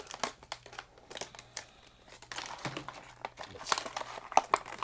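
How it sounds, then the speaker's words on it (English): Diecast model car, a Greenlight release, being worked free of its plastic blister packaging, with scattered crinkling and crackling of the plastic and a few soft cuts, close and fairly quiet; someone briefly speaks. "Once I get it out of the package, it'll hopefully settle."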